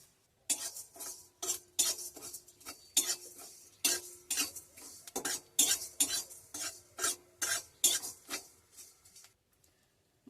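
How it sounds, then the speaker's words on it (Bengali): Dry panch phoron and two medium dried red chillies scraped and stirred in a dry wok, a steady run of close, crisp metallic scraping strokes in quick rhythmic bursts with brief gaps between, no voices. "এবারে শুকনো কড়ায় কিছু মশলা ভেজে নেবো।"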